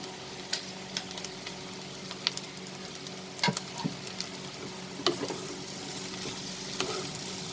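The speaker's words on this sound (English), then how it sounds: "Now we are going to add the okras or the lady's finger." Okra hits a hot pan with translucent onions for an okra and prawn dish and sizzles steadily at moderate volume. Small ticks and clinks of stirring break through now and then.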